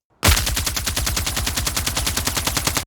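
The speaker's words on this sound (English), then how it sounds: "it reads as an assault rifle, and then secondarily, there's all the extra energy stuff going on" Redesigned futuristic assault rifle with laser energy elements fires one continuous automatic burst of roughly three seconds: rapid, evenly spaced, loud shots with bright zippy layers over a heavy ballistic core, heard alone.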